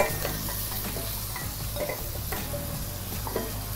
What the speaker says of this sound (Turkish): Bir miktar tuz ilave ederek etlerimi hafif soteliyorum